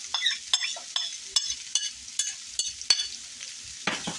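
Hungarian chicken sizzles in a pan while being stirred, with repeated scraping strokes in a steady rhythm over soft frying crackle, close and fairly quiet.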